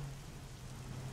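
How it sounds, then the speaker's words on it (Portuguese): Steady rain hisses continuously in the video game ARMA 3 with a low hum underneath, quiet and even throughout. "chovendo demais"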